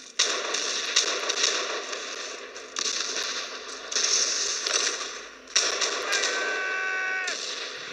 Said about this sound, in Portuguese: Mano, tá muito intenso o tiro aqui,